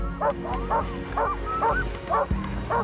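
Team of sled dogs barking in a regular volley of sharp yelps, about six barks over a few seconds, fairly close on an Arctic expedition, alone with no talk over them.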